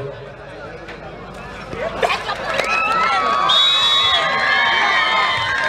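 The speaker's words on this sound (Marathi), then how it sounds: "टाळ्यांचा हा आवाजच आम्हाला या ठिकाणी अपेक्षित आहे" Spectators at a sports match between Kavya Sports and Ovi Sports erupt after a good catch, a crowd roar with cheering and whoops that swells midway and stays loud and dense to the end.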